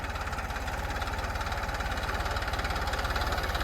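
A tractor engine runs steadily at close range while forming bunds in a coconut garden on black soil, giving a continuous low, rhythmic knocking throb with no talk over it.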